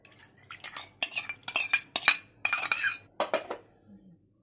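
A spoon scrapes and clinks against a bowl in a run of quick, close strokes as soaked chana dal is stirred into soaked rice and lentils for dosa batter, ending in quiet.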